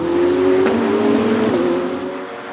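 Ferrari and Porsche GT race cars at speed on a circuit, a loud, steady engine drone with a rising note and a brief passing swell midway before easing slightly toward the end, no voices.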